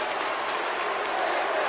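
Arena crowd in the video game WWE 2K19 roars as a steady, loud wash of cheering and applause with no breaks.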